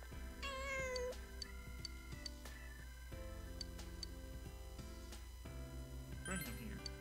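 A cat meows in the Persona 4 Golden video game, one high drawn-out cry near the start, then a shorter call near the end over looping background music.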